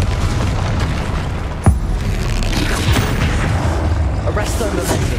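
A Confringo blast spell explodes during combat in Hogwarts Legacy, a single sharp boom with a whooshing burst near the middle, set against loud, busy game noise.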